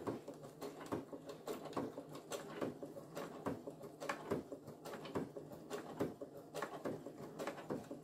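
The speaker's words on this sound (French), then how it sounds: "Je démarre, je fais mon point arrière et je continue ma couture." Home sewing machine stitching a seam with a backstitch at the start, making a steady run of rapid mechanical clatter with regular louder pulses, close and continuous with no talking.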